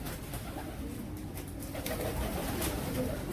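Pigeons in a coop cooing softly and steadily, with low murmuring calls and faint rustling through the whole stretch, fairly close and without talk.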